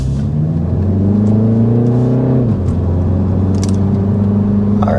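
A 2025 Mini Cooper S Convertible accelerates hard in go-kart mode, its engine note rising loudly through the revs, dropping at a gear change and climbing again, close and continuous with no talking.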